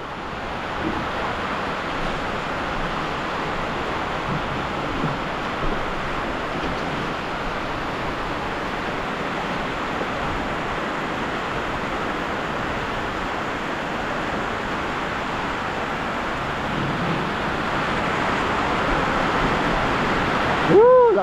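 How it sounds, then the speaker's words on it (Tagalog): Heavy rain pounds steadily on a metal-framed guestroom under construction, a dense, even hiss and drumming that continues without pause, with a brief sharper sound right at the end. "Lakas ng ulan."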